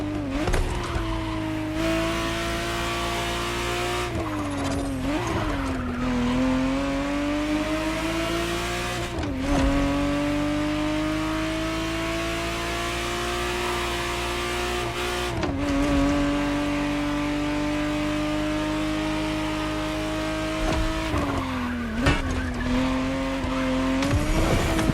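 A 1991 re-engineered sports car, angular with side air intakes, drives in The Crew Motorfest, its engine droning loudly and steadily with rising and falling pitch as it shifts gears, punctuated by brief gear-change dips and occasional tire noise.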